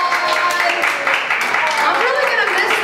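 Audience applause and clapping at a comedy showcase, a steady burst of claps from a room crowd lasting a few seconds, with a voice speaking over it.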